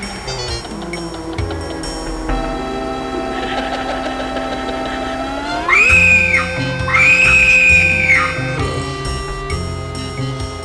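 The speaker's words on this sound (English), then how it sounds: "Get used to that screaming, you're going to be hearing it a lot throughout the game" Screaming in the computer game The 7th Guest: a synthetic wail that swoops upward, then holds two long, shrill, high cries over eerie tonal game music, with no talking.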